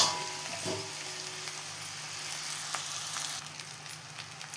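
Gongura (sorrel) leaves dropped into a hot pan for salted gongura pickle, giving a steady, fairly quiet hiss of frying with a few soft scrapes, no one talking.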